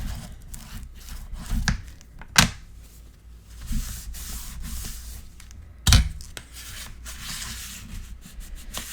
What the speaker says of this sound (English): I love these little flexible rulers for burnishing inside pockets and under belly bands and stuff.